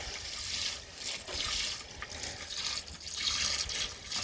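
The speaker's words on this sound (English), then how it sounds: "I'll just squirt that down with a hose, it'll be fine." Water from a garden hose sprays onto bricks to rinse off hydrochloric acid, a steady close splashing hiss that surges and dips as the stream moves.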